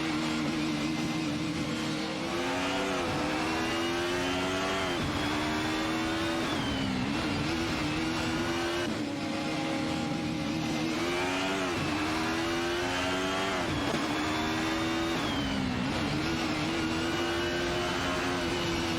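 Race car engines in an AI racing video game whine continuously, pitch climbing and dropping through repeated gear changes as several cars pass, loud and unbroken for the whole stretch.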